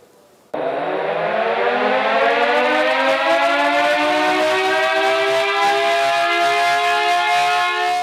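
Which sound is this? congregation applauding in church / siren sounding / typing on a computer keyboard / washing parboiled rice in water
siren sounding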